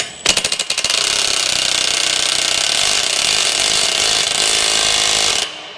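A socket wrench ratchets loudly up close as a bolt is loosened during vehicle disassembly: a few separate clicks, then a fast, continuous ratcheting buzz that stops abruptly.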